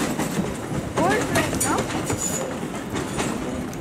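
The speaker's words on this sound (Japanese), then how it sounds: "2両編成の地下鉄車って面白いですけどね" A two-car retro former underground train running on the Isle of Wight, heard as a loud steady rumble with wheel clatter and squealing tones. Speech is also faintly present under the train noise.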